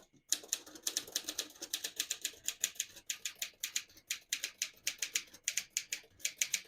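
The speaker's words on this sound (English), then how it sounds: "This is probably the most refined typewriter that Smith Corona ever made." A 1951 Smith-Corona Silent Super portable typewriter is typed on in quick, fairly even keystrokes. The sharp clacks come close and crisp, with small gaps between bursts and no voices.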